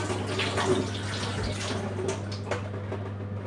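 Food being washed under running water from a tap, a soft continuous trickle and splash with faint handling sounds, quiet and close.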